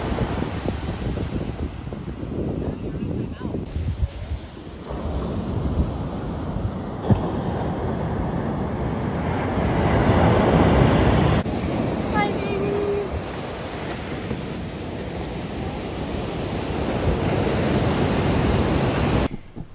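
Ocean surf rolling onto a beach in Sayulita, Mexico, a steady broad wash of breaking waves with gusty wind noise buffeting the microphone throughout.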